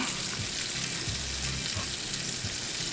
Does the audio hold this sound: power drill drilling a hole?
no